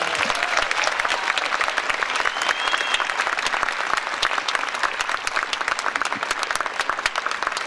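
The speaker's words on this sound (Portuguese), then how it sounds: "Eu quero uma salva de palmas para ele." Loud, sustained applause from a crowd at a literary festival panel, dense clapping filling the whole stretch without a break.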